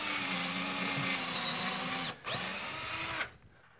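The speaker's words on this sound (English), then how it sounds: "I just push it aside and continue drilling" A power drill whines steadily drilling pilot holes into a wood stud, pausing briefly once, then cuts off abruptly, leaving quiet.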